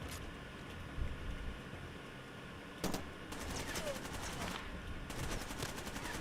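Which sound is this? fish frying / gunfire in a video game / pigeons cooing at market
gunfire in a video game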